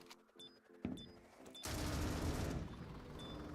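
Gunfire spray in a competitive esports video game match: a few short sharp shots early on, then a loud, sustained burst of rapid fire that runs to the end with almost no voice.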